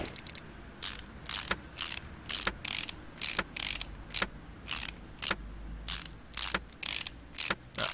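Ratcheting wrench clicks sound in repeated rapid bursts as an engine cover is bolted back on in the game Car Mechanic Simulator 2018, crisp mechanical bursts separated by short pauses, with no talking.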